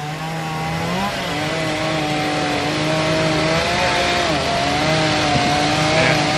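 A chainsaw drones steadily with shifting pitch as it carves wood at a chainsaw carving championship in Reedsport, Oregon, fairly loud and continuous, with no talking.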